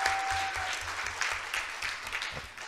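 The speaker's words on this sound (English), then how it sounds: "Can we give another round of applause for our presenters?" Audience applause for conference presenters at a session on HIV and adolescence, a steady sustained clapping from a room of people that runs throughout and tapers slightly at the end, with no talking.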